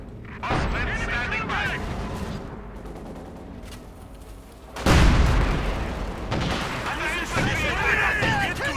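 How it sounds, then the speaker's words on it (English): Grenades exploding in Company of Heroes 2, a 1v1 match, with a sharp boom near the middle followed by dense battle noise and gunfire, all under continuous commentary. "Assault grenade advance, grenades going off"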